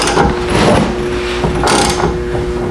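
A puller is tightened against a Jeep Cherokee steering ball joint, grinding and creaking with loud, steady metallic strain and a couple of sharper clanks, close up and with no talking.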